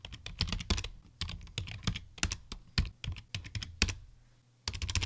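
Quick, crisp keystrokes on a computer keyboard as a command is typed, coming in bursts of rapid clicks with brief pauses, close and fairly quiet.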